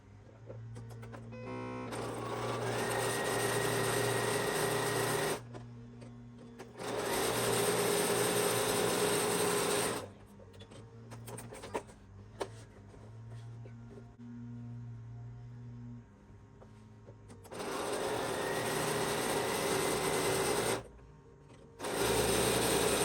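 Sewing machine stitching fabric strips onto the sides of a quilt block for a decorative pillow, heard in several loud, steady bursts of a few seconds each, separated by quieter pauses with faint handling noise.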